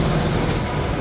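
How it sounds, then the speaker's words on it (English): A train standing at a crowded railway station gives off a steady, close rumble and hum of idling carriages, a brief continuous drone with no voices. "This train here that they're all squeezing on is the 16:53."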